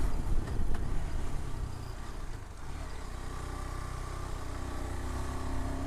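A scooter engine drones steadily as it climbs a steep hill road toward Gidda Pahar near Kurseong, the rough buzzing strained and constant under wind noise, with no talk.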